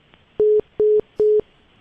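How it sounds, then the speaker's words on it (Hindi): A telephone line during a number redial gives three short, steady beeps, evenly spaced and clear against a quiet background. "अब यही नंबर रीडायल कर रहा हूँ मैं"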